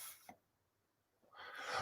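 A single sneeze, a short breathy burst near the start, is followed by a pause and then a louder rushing exhale or noise.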